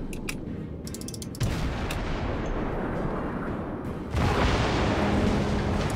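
Warship guns fire in the naval combat game World of Warships, a heavy booming barrage with rumbling sustained blasts, rising louder near the end, with no speech.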